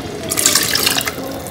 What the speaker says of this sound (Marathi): आणि अजून थोडंसं पाणी घेते.